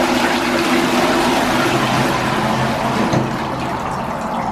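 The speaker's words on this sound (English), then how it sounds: "No way do I have a flushing toilet." A toilet in an abandoned petrol station flushes, sending a loud, close rush of gushing water that swirls steadily for several seconds before easing slightly.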